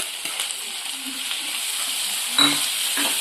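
Onion and tomato frying over a high gas flame, a steady close sizzle with occasional stirring scrapes and clinks, no voices.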